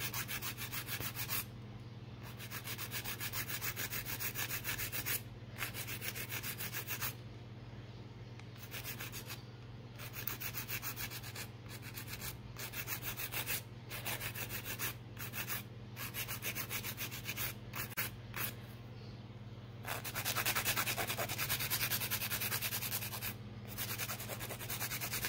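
A nail file rasps steadily across clear acrylic encapsulated nails, giving close, quiet, repeated rubbing strokes in short bursts with brief pauses between them, and no one talks.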